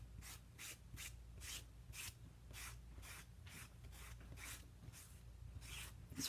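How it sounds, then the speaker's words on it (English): Repeated rasping strokes of a squeegee pulled across a silk screen during printing, about a dozen evenly spaced scrapes, close and fairly quiet, with no talking. "Scraping that across the silk screen."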